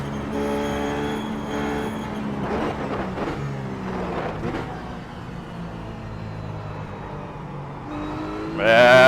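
A Ruf GT3 race car engine lapping Mosport in the iRacing simulator, a continuous loud engine note that rises and falls with gear changes, alone with no talk.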